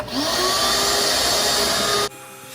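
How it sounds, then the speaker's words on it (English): A regular shop vac cleaning out a Pit Boss pellet smoker: a loud, steady whining suction roar that cuts off abruptly after about two seconds, leaving quieter background noise. "So I just use a regular shop vac, suck her out, and go from there."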